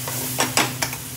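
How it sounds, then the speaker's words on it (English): Fish sizzles and crackles in a hot pan, with a few louder bursts of spitting oil over a constant frying hiss. "So it's been frying away for about 2 minutes."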